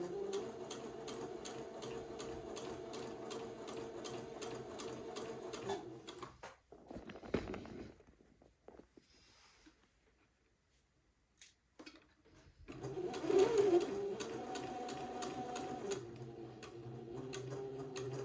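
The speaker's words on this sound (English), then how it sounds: "When I get to a 1/4 inch of the top, I will stop and pivot again and sew across the top of the shorts." A sewing machine stitches across the shorts of a white boy's button-on suit with a steady whirring hum. It breaks off for a quiet pause while the fabric is pivoted, then runs again close by.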